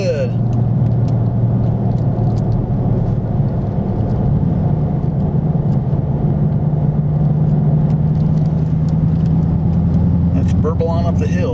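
2016 Dodge Charger R/T Scat Pack with a HEMI engine cruising on a highway at about 40, a steady low engine burble and road rumble heard from inside the car.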